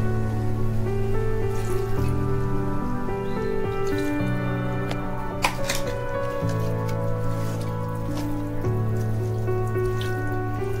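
Water poured into a pot for beef dum biryani, a soft splashing trickle running steadily throughout, close but partly under a sustained background music bed.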